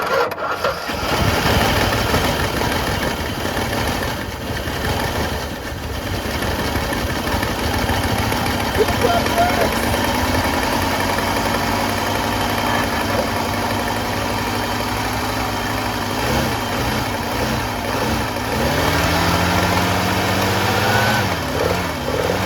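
A rusty 1973 Plymouth Scamp that sat near the ocean idles roughly with clogged idle circuits, a loud, uneven running engine rumble that wavers and surges throughout, close by.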